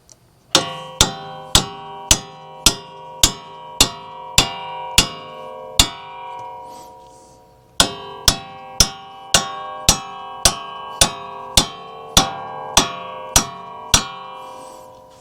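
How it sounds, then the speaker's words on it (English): Sharp metallic strikes of a brass hammer on a steel strut bolt in a steady rhythm, about ten blows, a brief pause, then another dozen evenly spaced ringing hits, close and loud. "this is a brass hammer"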